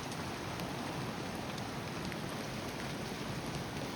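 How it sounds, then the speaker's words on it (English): Steady heavy rain falling outside around a container house, a dense, even hiss of drops with a few sharper patters, continuous and close without any voices. "let's wait out this bloody rain"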